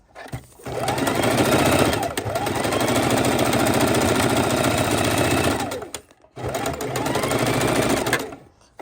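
Sewing machine stitching raw edge appliqué, a loud steady rapid mechanical whir running in long bursts with brief pauses between them.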